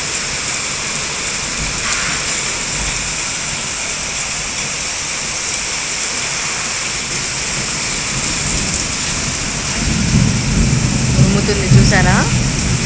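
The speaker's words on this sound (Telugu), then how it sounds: "ఉరుముతుంది చూసారా." Heavy rain in Hyderabad hisses steadily, and a low rumble of thunder swells in near the end. A voice talks briefly over the downpour.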